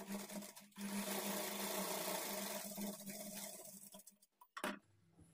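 A sewing machine runs in a steady whirring burr while stitching the lining of a blouse, then slows and stops, leaving a few soft clicks and fabric handling sounds.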